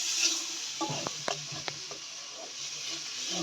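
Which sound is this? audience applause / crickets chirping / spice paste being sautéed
spice paste being sautéed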